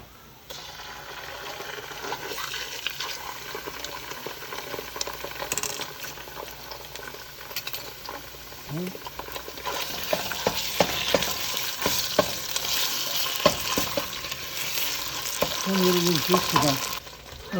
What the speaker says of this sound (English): I got the garlic nice and brown now. Take a look. And I'm going to add the tomato paste.